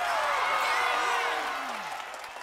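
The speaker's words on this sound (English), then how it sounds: "let's all clap for Dora!" An animated gymnastics show audience claps and cheers for Dora, a dense, loud burst of applause that fades slightly over a couple of seconds.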